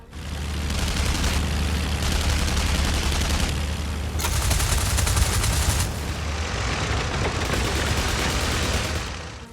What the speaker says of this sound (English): He dove below the bomber to attack from its blind spot and opened fire.